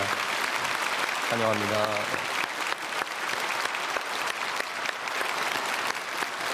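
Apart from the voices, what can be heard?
church congregation applauding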